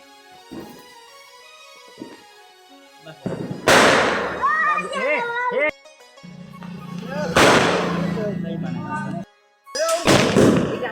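An anarkali firecracker bursting at Diwali, several loud crackling, fizzing bursts close by with shouting voices mixed in.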